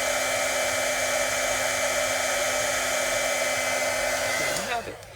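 A heat tool melting embossing powder on a paper craft project: a loud, steady blowing whoosh with a whine that runs for several seconds, then cuts off and spins down just before the end.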